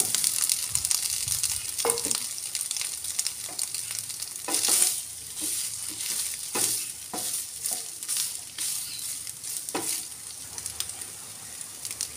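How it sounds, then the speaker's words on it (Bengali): Soybean chunks fry in oil in a pan with a constant close sizzle, broken by several sharp clattering stirs and scrapes of a spatula. "এবার ক্যাপসিকামটা বেঁধে রেখে ওই প্যানে সয়াবিনটা ভেজে নেব।"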